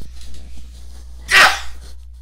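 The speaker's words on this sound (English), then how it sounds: "excuse me, I've got a sneeze" One loud, close sneeze bursts out in the middle of a quiet stretch, preceded by faint breathing and low room hum.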